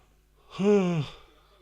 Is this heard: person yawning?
yes